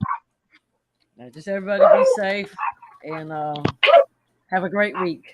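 Dogs bark intermittently in the background of an evening group hangout, short yips and barks mixed in with ongoing conversation as people talk over them.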